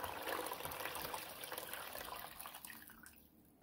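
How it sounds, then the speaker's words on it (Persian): Water poured from a glass into a cooking pot of lentils for soup, a quiet continuous splashing stream that tapers off and fades near the end. "حدود 4-5 لیوان آب رو به قابلمه‌مون اضافه میکنیم."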